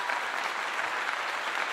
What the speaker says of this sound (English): Let me give you a clap on that.